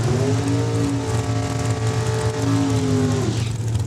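An RWH Motorsports dragster at Saskatchewan International Raceway in Saskatoon gives off a loud, sustained, buzzing engine drone with a steady tone that holds near and constant before easing slightly at the end.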